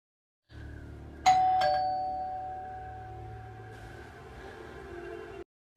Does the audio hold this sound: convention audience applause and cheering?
no